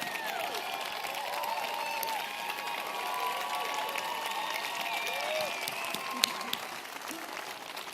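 An audience at a public event keeps up sustained applause with scattered cheers and whoops, a dense, even wash of clapping that holds throughout.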